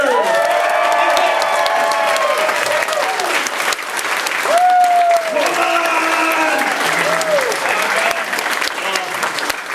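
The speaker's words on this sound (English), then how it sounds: "have another round of applause for voice actor!" Convention panel audience applauds a voice actor with loud sustained clapping and some cheering, while sung or voiced tones ring over the crowd.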